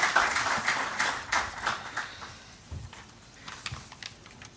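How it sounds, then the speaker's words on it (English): Scattered claps from an event audience greeting Dr. Saraswat at a defence-sector forum for small businesses, starting fairly dense and thinning into sparse, irregular hand claps that fade over a few seconds. "A big round of applause for Dr."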